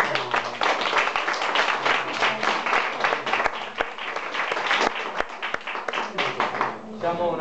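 Audience applause at a live card-magic show, dense and sustained clapping from a crowd for over seven seconds, fading toward the end with some voices mixed in.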